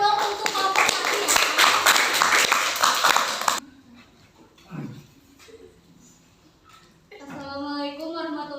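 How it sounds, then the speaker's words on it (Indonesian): Applause from a classroom group for the first team, a few seconds of dense close clapping that stops abruptly, followed by faint voices and then speech. "tepuk tangan dong untuk kelompok 1 ya."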